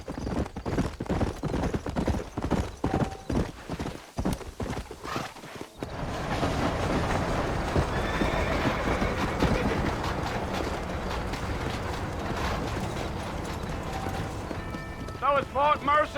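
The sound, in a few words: horses' hooves clip-clopping, from video game Red Dead Redemption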